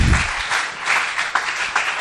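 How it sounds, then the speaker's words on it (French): An audience bursts into loud applause for the king, a dense steady wash of clapping with a few sharper individual claps standing out, heard close and alone. "Acclamons très fort pour le roi."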